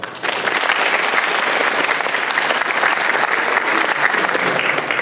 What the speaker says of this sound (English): let's give him a more applause.